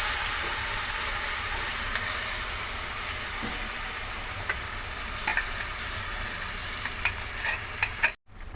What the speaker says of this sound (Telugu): ఇగో మనం ముందుగా పట్టుకున్న ఆనియన్ పేస్ట్ అందులో వేసుకోవాలి.